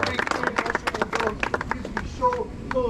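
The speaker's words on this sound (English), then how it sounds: "I don't know what I'm clapping" People clap at a protest outside a rental property in uneven, rapid bursts close by, while voices talk over the clapping.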